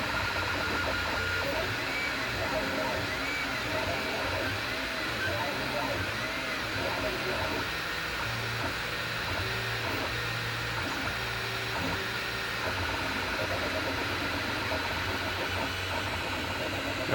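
A LulzBot Taz 3D printer with a Titan Aero tool head and Palette+ multi-color setup hums steadily with a continuous motor drone and faint whirring stepper movements, even and moderately quiet throughout.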